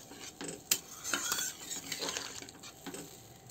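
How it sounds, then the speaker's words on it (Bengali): Gravy poured and stirred into Bengali-style prawn curry in a pan, with scattered clinks and scrapes of a spoon against the metal and soft bubbling, close and fairly quiet with no talking. "এই যে আমি দিয়ে দিচ্ছি রসা"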